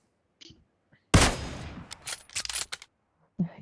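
PUBG Mobile gunfire with a headshot kill: a sharp loud shot followed by a quick cluster of close cracks, with brief quiet gaps and a short voice at the end.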